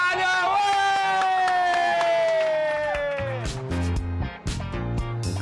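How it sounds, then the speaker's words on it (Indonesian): On a Jakarta skyscraper city tour, a group claps together after a long drawn-out vocal line. The scattered claps arrive in the second half, mixed with voices and background noise. "Tepuk tangan dong."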